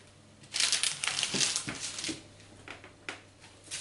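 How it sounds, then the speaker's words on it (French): Back of a knife scoring a crosshatch into cheese puff pastry, giving a run of close, dry crinkly scrapes and light crunches in quick bursts, fairly faint with no talk. "on peut faire un petit quadrillage dessus avec le dos du couteau"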